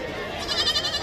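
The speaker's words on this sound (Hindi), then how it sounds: "बकरी बच्चे इनके ही है," Goat kids bleat at a busy riverfront goat market, a few wavering calls rising over a dense crowd background of murmur and noise.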